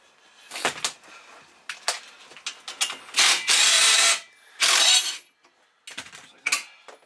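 A crowbar pries at flange bolts, giving sharp metallic clanks and scrapes mixed with longer grinding and creaking bursts, loud and close, with no talking.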